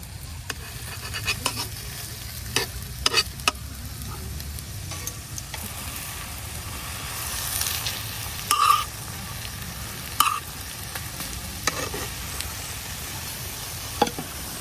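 An egg-potato dhoka cake fries in oil in a pan with a continuous soft sizzle, broken by occasional sharp clicks and scrapes of a utensil against the pan.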